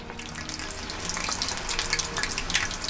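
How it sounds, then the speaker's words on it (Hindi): Chaap pieces deep frying in hot oil, a steady close crackling sizzle with dense bubbling pops throughout and no talking. "चाप को डीप फ्राई करने से एक बेनिफिट और है, इसकी लेयर्स अंदर तक खुल जाएंगी"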